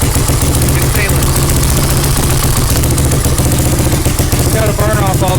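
A 350X three-wheeler's single-cylinder engine runs steadily and loudly, burning off piston and ring grease through a holed exhaust, with a continuous rough, pulsing drone throughout.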